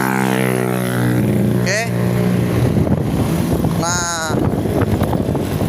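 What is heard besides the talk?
Honda Beat scooter engine running after restart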